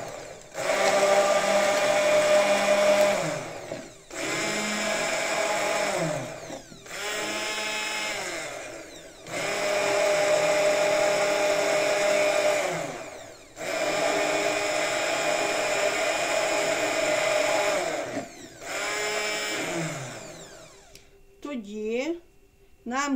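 A blender mixes salted aquafaba mayonnaise, made without eggs, in loud steady whirring runs of a few seconds each, separated by short pauses, with no voices over it.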